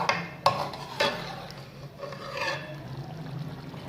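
Spoon stirring urad lentils (daal mash) with garam masala in a pot makes close scraping and clinking sounds, sharp knocks near the start followed by softer rubbing and wet shuffling, with no talk.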